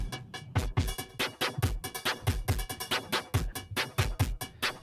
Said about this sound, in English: We got a drum module